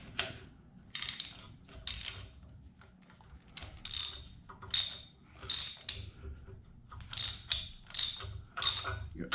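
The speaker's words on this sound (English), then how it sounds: "So you want to hold it from the bottom as you tighten the nut" Ratcheting clicks from tightening a nut on a ridge-cutting tool set in a small-block Chevy engine cylinder, coming in short bursts of crisp, close mechanical clicking with brief pauses between strokes.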